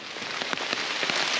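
Hard rain pours down steadily on a backpacking trail, a dense continuous hiss close by, broken by scattered louder drops and splats striking nearby surfaces.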